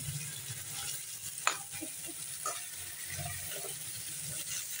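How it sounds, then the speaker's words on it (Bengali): Potatoes frying in hot oil in a wok for a fish dish give a steady broadband sizzle, with a few scattered clinks and scrapes from stirring. No one speaks. "তেল দিয়ে এখন প্রথমে আলুটা ভেজে নেব মাছের জন্য"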